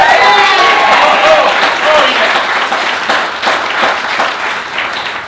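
Loud applause and cheering from a comedy late-night show audience responding to a question about being vaccinated, a dense crowd roar of clapping that stays strong and slowly eases.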